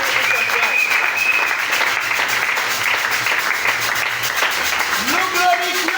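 A church congregation applauds throughout, a dense, steady wash of many clapping hands with cheering voices mixed in, loud and sustained for several seconds.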